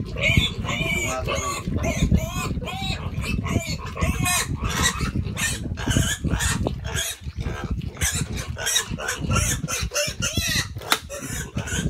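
A sow grunts and snorts repeatedly up close, with chickens clucking and a voice talking in the background throughout.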